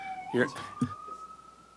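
An ambulance siren passes outside during a downtown parking committee meeting, a faint, steady wailing tone rising and then holding in the background while a person speaks briefly over it.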